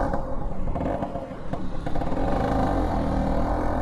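A 1966 Piaggio Vespa scooter engine running while riding, a steady buzzing whir with road and wind noise, shifting pitch slightly as the gear changes.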